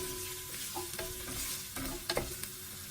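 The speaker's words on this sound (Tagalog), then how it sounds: "Kapag mainit na yung ating mantika, magigisa na tayo dito ng bawang." Garlic sautéing in hot oil for chicken tinola, a soft steady sizzle with a few stirring scrapes and clicks, quiet and close, no talk.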